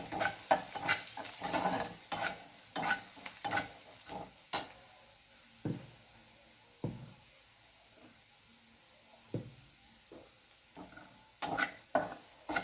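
Onion sizzles in a pan with salt for veg fried rice, with repeated scraping stirs of a spatula against the metal in irregular bursts over a steady low fry, close and fairly loud, with no talking.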